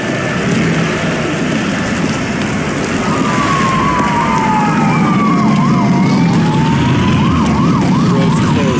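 A police car siren in the video game Nobody Wants to Die wails and yelps loudly over a dense rumbling backdrop.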